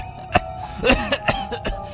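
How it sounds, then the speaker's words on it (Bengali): A cartoon character coughing from smoke of burning leaves, several sharp raspy coughs in a short irregular burst, close and prominent. "কাশতে কাশতে জীবন যাচ্ছে।"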